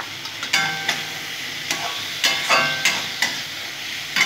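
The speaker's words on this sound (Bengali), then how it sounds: "খুব ভালো করে আলুগুলো আমি ভেজে নেবো এর সাথে" Potato pieces fry with spice paste in a pan for a Bengali chochchori, a steady sizzle broken by sharp scraping knocks of a spatula every half second or so, close and loud with no talking.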